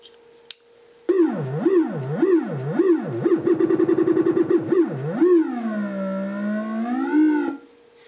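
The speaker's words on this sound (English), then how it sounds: "Now we'll plug into frequency modulation." Frequency modulation on a Look Mum No Computer 1222 Performance Oscillator in a eurorack setup produces a loud, swooping, siren-like synth tone. It wobbles up and down in pitch, speeds into rapid fluttering pulses, then glides slowly and cuts off, with no talking.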